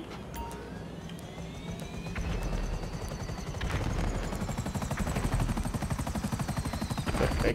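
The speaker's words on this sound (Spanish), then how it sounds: "Pero ya acabo de agarrar un helicóptero." A helicopter in the video game GTA V on Xbox 360 drones and whirs with a rising rotor chop that grows louder and more steady over several seconds, with no talking over it.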